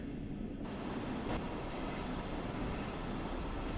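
Steady, loud rumble of a simulated double-deck passenger train on the Ruhr-Sieg Nord line in Train Sim World 2020, a continuous rolling drone with no pauses or voices.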